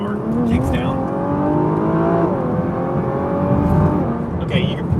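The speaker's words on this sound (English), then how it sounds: "The induction, the sound of the turbos spooling." A 2020 Nissan GT-R Nismo accelerates hard from about 30 mph in automatic mode, its engine rising steadily in pitch with a turbo whine layered on top, close and loud inside the cabin.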